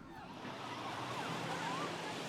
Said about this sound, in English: where they can hear the waves and have a good time